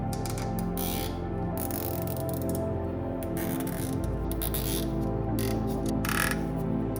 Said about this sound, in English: We tighten the cable ties and cut off the excess.